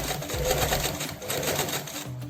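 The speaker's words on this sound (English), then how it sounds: "drop your presser foot back down, and we're going to continue sewing" Sewing machine stitching a zipper pouch, running steadily at close range for a couple of seconds with a fast, even needle rhythm and no talking.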